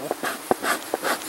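Honeybees from freshly installed nucs buzz in short, close bursts, several brief pulses rising and fading over a bit more than a second, with faint background noise and no talking.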